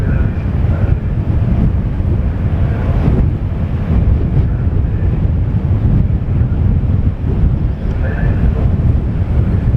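Heavy wind buffets the microphone in loud, rough gusts on a ferry gangway of MV Alfred at Brodick, with a low roar of engine and sea beneath and a voice speaking through it.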